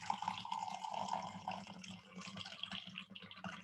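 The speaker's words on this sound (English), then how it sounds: "As I pour some coffee." Coffee being poured into a cup, a steady liquid stream trickling and splashing for a few seconds, close and fairly quiet, with no talking over it.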